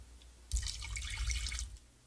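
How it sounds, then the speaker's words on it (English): Water splashes briefly into a hot Lodge cast iron pan holding spices and a cinnamon stick, a short sizzling, bubbling spatter lasting about a second before fading. "Just a splash of water."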